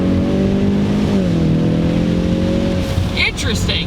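Ford Mustang EcoBoost engine droning loud and steady inside the car, then dropping in pitch as revs fall, followed by brief fluttering chirps, with someone talking over it.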